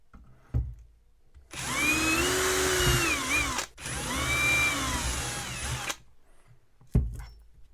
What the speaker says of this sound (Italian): prendo la punta di trapano che viene data in dotazione, che è nascosta fra i trucioli. Quindi la inserisco nel mandrino e pratichiamo i fori.